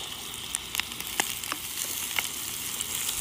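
Onion, pepper, potatoes and carrots sizzle and fry in a pot, a steady close hiss with scattered crackles and pops throughout.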